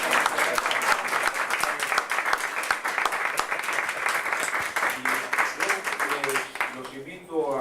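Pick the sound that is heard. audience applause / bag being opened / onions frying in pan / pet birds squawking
audience applause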